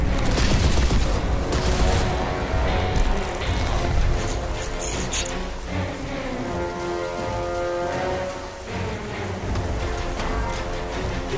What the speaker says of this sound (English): Let me fire off my last round of this epic RPG.